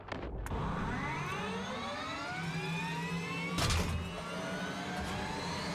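An Abrams tank's turbine engine in the video game Battlefield 6 whines with rising, sweeping pitch over a low rumble, accompanied by a couple of sharp mechanical bursts during play.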